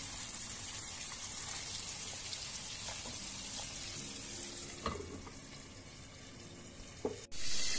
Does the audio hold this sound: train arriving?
no